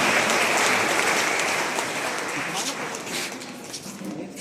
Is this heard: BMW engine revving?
no